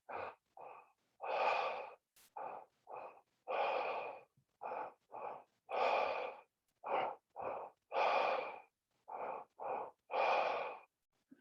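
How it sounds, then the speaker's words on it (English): Steady breathwork breathing, a little faster than normal: about a dozen loud, close inhale-exhale cycles, with full airy breaths alternating with shorter ones in an even rhythm and no talking. "so it's slightly faster than normal breathing, but we're not hyperventilating"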